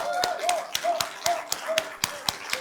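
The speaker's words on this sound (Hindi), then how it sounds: "एक बार परमात्मा के लिए ताली।" Clapping from a numerology class audience: a few sharp, evenly spaced claps in a steady rhythm, fairly close, with a sustained musical tone humming underneath.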